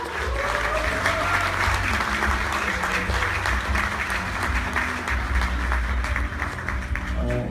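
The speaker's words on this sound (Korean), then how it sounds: "2부를 진행하실 김영진 의원님을 큰 박수와 함성으로 모시도록 하겠습니다." A political event audience in Korea applauding and cheering as a lawmaker is welcomed to the stage, continuous loud crowd clapping with shouts mixed in and some background music or voices.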